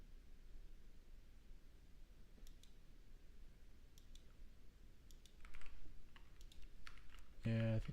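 Typing on a computer keyboard in a quiet co-working study setting: sparse, soft key clicks in small clusters over low background hiss, growing a little busier near the end.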